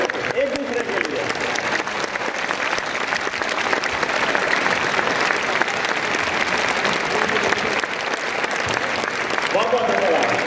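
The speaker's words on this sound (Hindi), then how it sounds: "एक बार एक दूसरे के लिए खड़े होकर के जोरदार तालियां बजा दीजिए" A seminar audience on parenting and education rises to give sustained, loud standing applause, a dense even wash of clapping lasting several seconds, with faint voices mixed in.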